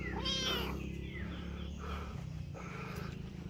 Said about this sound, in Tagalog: Ang kulit ng pusa.